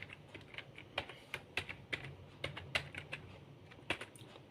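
Arduino code being typed on a computer keyboard, with steady, fairly quiet key clicks in an irregular rhythm and occasional sharper taps over a soft background hum.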